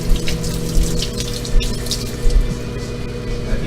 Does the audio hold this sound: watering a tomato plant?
yes